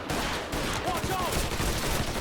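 Mixed gunfire from the video game Mafia III crackles in steady rapid bursts under loud battlefield ambience while voices shout over the shooting.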